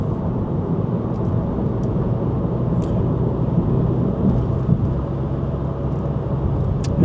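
Steady, loud tire and road roar from inside a 2015 Honda Fit running on snow tires, a dense continuous rumble with no voices and only faint occasional ticks.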